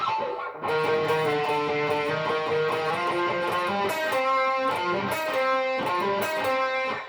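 A sustained, harmonically rich electric guitar plays a melodic phrase from a song's solo, bending, connected notes, loud and up front, with no voices.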